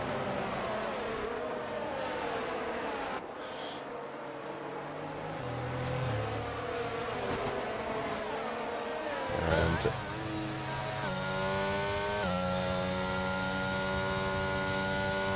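Race cars in an F1 racing video game at the Austria circuit: engines drone and whine steadily, with rising revving pitches and a passing car near the end, over a constant humming background.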